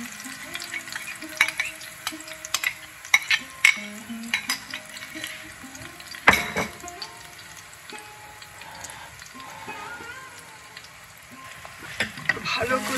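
Onion, garlic and ginger paste fries in hot mustard oil with a soft, low sizzle, punctuated by sharp clinks and scrapes of a spoon against the pan at irregular intervals.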